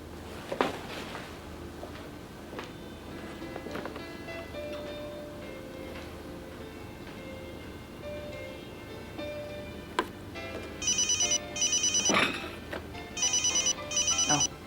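A mobile phone left behind rings with a repeating electronic ringtone in regular bursts, loud and close in a quiet room after earlier scattered knocks and movement, with no talk over it.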